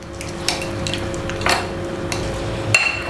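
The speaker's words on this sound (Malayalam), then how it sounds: "അപ്പോൾ ഇനി നമുക്ക് ചെയ്യാനുള്ളത് ഇതെല്ലാം ആദ്യം ഒന്ന് മിക്സ് ചെയ്യാം." Butter, grated cheese and corn kernels are stirred together in a bowl, giving a few scattered spoon clinks and scrapes over a quiet background, with no talking.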